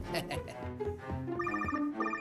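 A telephone rings faintly, its melodic tones repeating for a couple of seconds.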